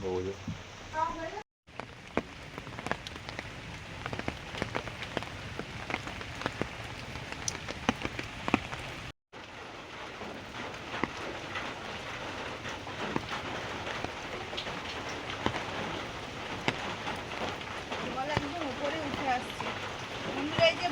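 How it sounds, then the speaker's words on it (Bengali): Heavy monsoon rain pours steadily outdoors in a rural village, a dense, continuous hiss of drops hitting surfaces that runs for the whole stretch with only two brief breaks. "আজকে সকাল থেকে তো বৃষ্টি হচ্ছে।"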